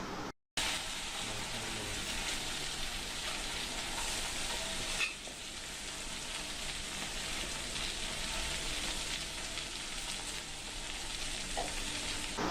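Red amaranth greens fry with crushed garlic in a pan, giving a steady loud sizzle and crackle that lasts throughout, after a brief silence at the start and one soft clatter partway through.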